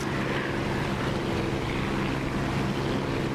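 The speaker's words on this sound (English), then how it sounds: "This is the Echo 19 Spitfire engine sound," Echo 19 Spitfire engine in the DCS flight simulator game, a steady, loud propeller-engine drone holding an even pitch and level throughout, with no voices.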